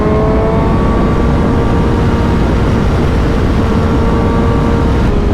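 Motorcycle fitted with an aftermarket exhaust and a BT Moto Stage 2 tune runs loud and close, a continuous throaty engine drone that holds steady for several seconds with no talking.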